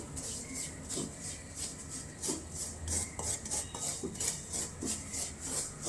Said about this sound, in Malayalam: നന്നായി വറുക്കട്ടെ